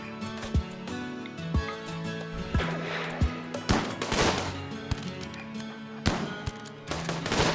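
Gunfire in the colony game RimWorld during a raider attack: a string of sharp separate shots, including a shotgun blast, cracks out at irregular intervals over a low background hum.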